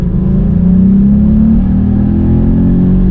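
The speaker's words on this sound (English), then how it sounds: "I'm foot to the floor" A VW Up GTI engine held at full throttle, a loud close rumbling drone that climbs steadily in pitch while accelerating, with constant road and wind noise underneath.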